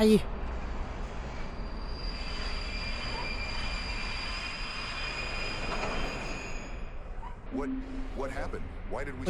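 A train rolls steadily in the horror video game Whispering Lane, a continuous rumble with squealing wheels throughout, with a voice talking near the end.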